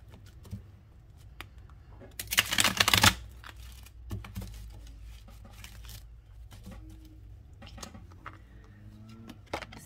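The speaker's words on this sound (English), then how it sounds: "I'm gonna shuffle and then pick from the middle." A tarot deck being shuffled by hand, a short burst of riffling card flutter around the middle of an otherwise quiet stretch, with soft handling clicks and rustles before and after.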